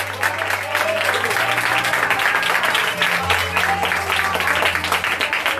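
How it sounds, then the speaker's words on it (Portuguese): A church congregation at a Sunday service applauds loudly and steadily in a dense, sustained wash of clapping, with a low held tone humming beneath and murmured voices mixed in. "Dê um aplauso bem forte para Jesus, mais forte para ele."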